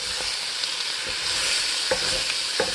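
Cabbage frying in butter in a pan, starting to brown and burn: a steady close hiss of sizzling with a few soft stirring scrapes, heard alone with no voices.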